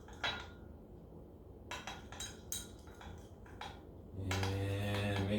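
A small spoon spatula stirs a chemical reaction mixture, giving a few scattered light clinks and scrapes close by, then a steady low hum takes over near the end.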